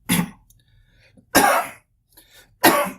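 Three harsh, loud coughs ring out close by, each a short burst followed by a quiet pause.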